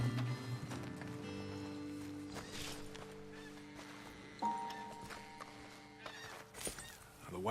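Horses in the Red Dead Redemption 2 video game, with snorts, whinnies and clopping hooves close by, set over a quiet outdoor ambience.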